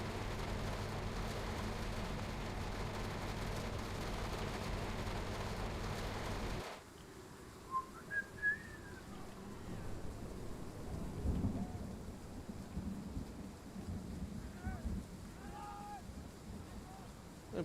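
Heavy rain and rolling thunder from a thunderstorm in the Train Sim World 5 train simulator, a steady dense roar at first, then softer rainfall with low rumbles and faint tonal chirps.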